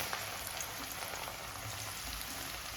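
Garlic hits hot oil for a chicken lollipop gravy, and a steady, fairly faint frying sizzle hisses on without pause, with no voices over it.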